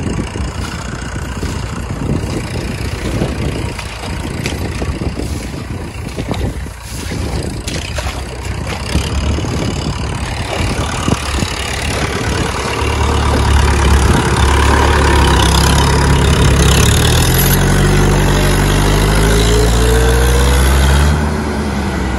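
A tractor engine, an Arjun 605 or Mahindra 575, idles and then works harder, its low steady rumble growing louder and heavier in the second half amid outdoor background noise.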